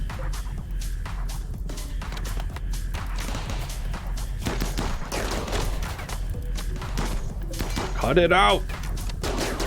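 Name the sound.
turret gunfire in the video game RimWorld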